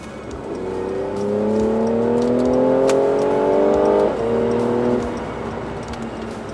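Mercedes-AMG C43 4Matic from 2018 revving up, its engine note rising in several sweeping climbs, dropping back after about four seconds and then settling, loud and close, with no talking.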